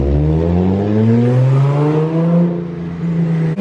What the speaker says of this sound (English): What a big exhaust!